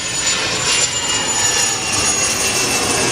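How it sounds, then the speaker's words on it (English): Loud, steady roar of jet aircraft engines at an airport, a dense continuous wash with a faint high whine running through it and no talk over it. "That was a loud pitch and a little squeak. Maybe it was just the frequency of the engines."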